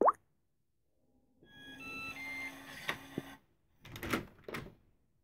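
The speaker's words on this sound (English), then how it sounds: "So let's unlock back door." Z-Wave smart lock on a back door unlocking: a sharp click, then a whirring motor drive of about two seconds with tonal beeps, followed by two brief chime-like electronic notification tones, close and fairly quiet.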